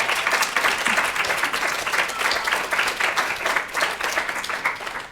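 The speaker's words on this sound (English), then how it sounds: "Can we have a round of applause for everybody?" A crowd applauds steadily and loudly, many hands clapping in a dense, continuous patter that holds throughout.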